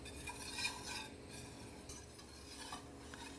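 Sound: whisking flour into heated oil in a pan

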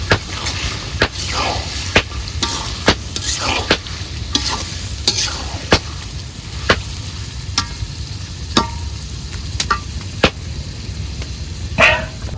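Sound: beef being cooked and stirred in a pot

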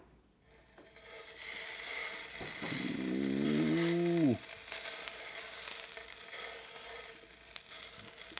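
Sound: A5 Wagyu beef sizzling on a hot grill

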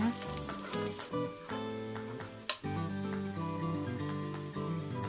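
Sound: shallots and garlic frying in oil

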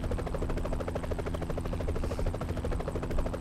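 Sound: helicopter flying in Roblox ERLC video game

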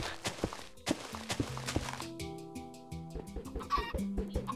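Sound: chickens clucking in the video game Minecraft

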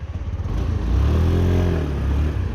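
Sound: Honda Dio 110 scooter engine running

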